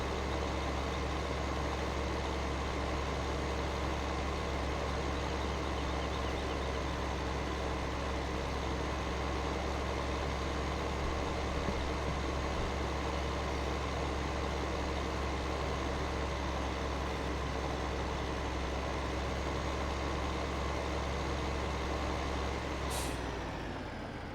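A truck towing a farm sprayer idles and rolls into a farmyard with a steady, close, loud diesel drone that holds for over twenty seconds, then a brief sharp burst near the end. No one speaks.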